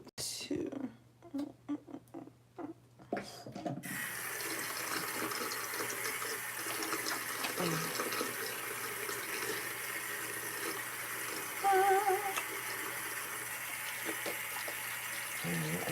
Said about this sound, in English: I'm gonna wash my hands right quick too.